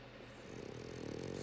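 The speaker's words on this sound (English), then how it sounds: "Snoring." A French bulldog passed out asleep, snoring in a low, rough rumble that grows louder and steadier, close and alone with no talk.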